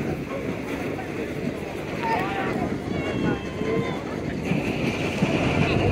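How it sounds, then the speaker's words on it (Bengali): The Parabat 12 passenger launch moves on a river, with a steady engine and water rumble under wind noise and distant voices, with a faint horn-like tone partway through. "বিদায় জানাচ্ছি আজকের মতো পারাবাত 12 লঞ্চকে"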